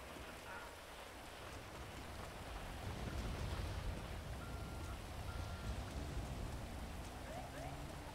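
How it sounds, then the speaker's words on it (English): Steady rain falling in the FiveM video game, a soft, even hiss of drops that stays constant and fairly quiet throughout, with faint rumbling beneath. "How the fuck is it raining in station?"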